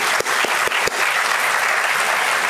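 Steady applause from an audience at an arts celebration, honouring a late founder on her birthday anniversary and the close of her centenary year, a dense even wash of clapping sustained throughout with no voices.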